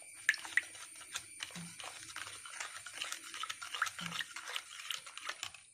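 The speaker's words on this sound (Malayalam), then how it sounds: "ഇനി ഇതെല്ലാം നന്നായിട്ടൊന്ന് ഇളക്കി ഒന്ന് മിക്സാക്കി എടുക്കുക" Salt and water get stirred together in a bowl while preparing banana chips: soft, irregular scraping and sloshing strokes, close and fairly quiet, with a steady faint hiss underneath.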